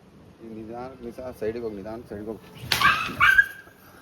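A dog barks sharply a few times close by, right after a stretch of a person calling out in a sing-song voice.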